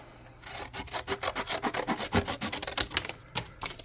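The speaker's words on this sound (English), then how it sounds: "Let's just cut some board here" Board being cut by hand for a tabletop terrain model, a steady rhythmic rasping of back-and-forth strokes, close and continuous for several seconds before stopping.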